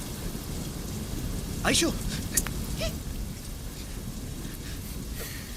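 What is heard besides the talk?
rain falling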